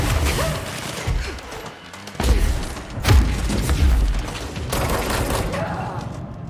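Gunfire and heavy booms in the video game Control, a loud rumbling barrage with several sharp blasts over about six seconds.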